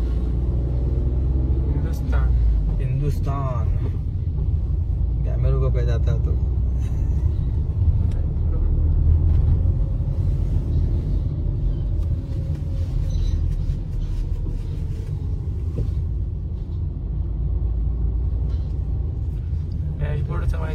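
A car cruises on the road with a steady low engine rumble and road noise throughout, while people talk inside the cabin.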